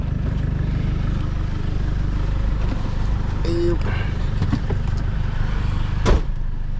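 Toyota Vigo pickup truck, a work vehicle with a warning light on, driving along with a steady low engine and road rumble throughout, plus a brief knock or clunk near the end.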